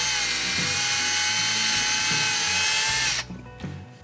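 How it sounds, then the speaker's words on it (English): Power drill whining steadily as it bores a pilot hole into a Mazda MX-5 NC1 body panel, a close, loud high-pitched drone for about three seconds before cutting off, leaving faint handling noises. "So I'm going to try and get the drill to bite just there."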